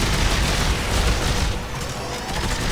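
A plasma rifle in Dead Space 3 fires in a dense, rapid burst of crackling shots and booms, loud and continuous with the level sagging briefly midway before picking up again.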